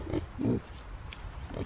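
Piglets grunting in a muddy farm pen, a few short low grunts in quick bursts, close by with quiet background.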